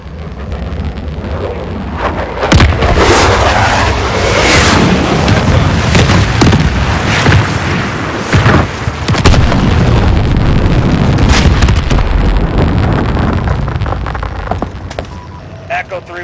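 Airstrike explosions in the video game Call of Duty Modern Warfare: heavy booms and rumbling blasts roll almost continuously for several seconds, loud and close, with voices talking over the barrage.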